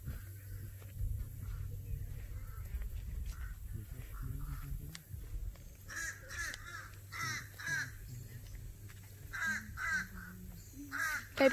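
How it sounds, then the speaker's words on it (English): A bird near calm wetlands gives a series of harsh, crow-like caws, moderately near, repeated in short bursts over low background rumble and faint ambient noise. "look at the bird."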